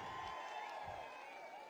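Crowd at a political rally speech about Lokesh cheers and applauds, a continuous dense wash of shouting and whooping voices that stays loud and even.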